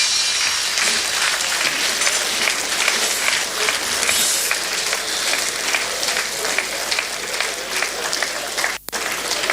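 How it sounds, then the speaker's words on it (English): Loud, sustained applause from a large audience at a magazine unveiling event, dense steady clapping filling the whole stretch with a brief dip near the end. "Another resounding applause for Professor Luck Otieno Lumumba."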